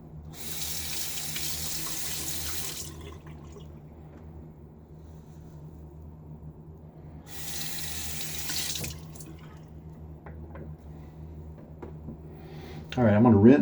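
A bathroom sink tap runs in two short bursts for rinsing after a shave with a Timeless safety razor, with quiet pauses between them and a clink at the end.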